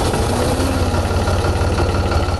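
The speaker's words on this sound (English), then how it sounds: "runs a tractor" Steady low rumble of a tractor engine running on a vineyard farm, a continuous near, loud idle-like drone with no talk.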